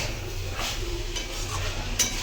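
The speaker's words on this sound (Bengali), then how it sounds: "যাতে চিকেনটা একটুও কড়াই লেগে না যায়, তাই ভালোভাবে নাড়াচাড়া করতে হবে" Chicken pieces are stirred in a hot kadai (wok) while being browned for an egg chicken roll: a steady sizzle of frying with soft scraping strokes and an occasional light clink of the utensil.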